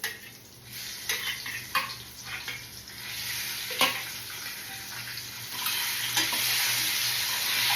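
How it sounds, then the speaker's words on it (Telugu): Eggs fry in hot oil in a pan seasoned with chilli powder and turmeric, part of an okra and egg curry, giving a steady broadband sizzle with occasional sharper crackles and spatters that swell louder toward the end, with no voices. "ఇది ఒక 2 మినిట్స్ ఫ్రై అవ్వాలి ఎగ్స్ అనేవి."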